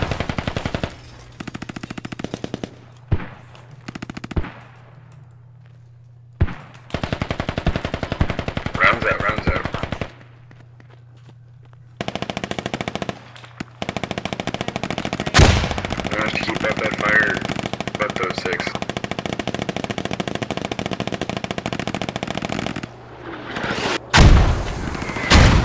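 Mortar and battlefield fire in the video game Squad: heavy booming impacts scattered through a dense, continuous rattle of machine-gun and rifle fire, with a few brief quiet gaps between loud sustained bursts.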